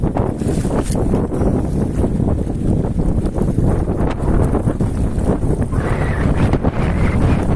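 Heavy gusting wind blasts the microphone by the water on an ultralight fishing trip, a dense, unbroken roar with no voices.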